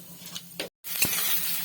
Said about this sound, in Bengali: আর ওই তেলে আমি গোটা জিরে ফোড়ন দিয়ে দিলাম